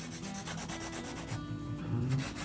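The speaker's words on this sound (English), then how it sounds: "I'm like breaking a sweat, hand filing." A nail file is rubbed by hand across a thumbnail, producing rapid, even scratchy strokes in a quick steady rhythm, close and soft, with no voices.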